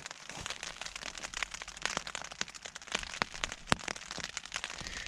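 Rain falling on a tent at a kayak camp on Loch Linnhe, a soft steady patter with scattered sharper drops tapping close by, fairly quiet.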